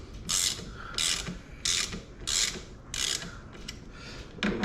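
A ratcheting tool loosens bolts while a Polini Thor 202 engine is assembled for a Kangook Amaruk XD, giving about six close, crisp bursts of rapid clicking at a regular pace with short pauses between.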